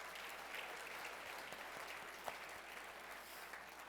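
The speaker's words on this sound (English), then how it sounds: "how about a round of applause for those" Faint, distant audience applause at a charity gala auction, a steady soft patter of many hands clapping throughout with an occasional sharper clap standing out.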